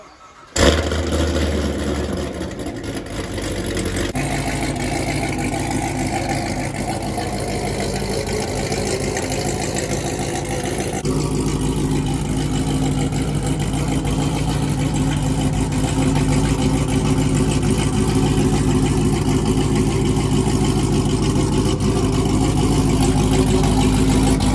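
Cammed Corvette C7 Z06 with a Corsa Extreme exhaust cranks and fires up with a sharp burst, then settles into a loud, steady, lopey idle that rumbles on close by with no talking.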